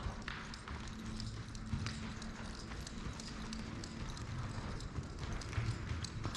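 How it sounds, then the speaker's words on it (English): A horse trotting with a steady, fairly quick clip-clop of hooves, moderately close and continuous throughout, without anyone talking. "Dusty, let's trot."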